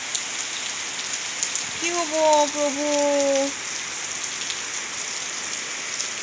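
Steady heavy rain falls during a flood, a continuous broadband hiss that holds throughout, with a person speaking briefly in the middle.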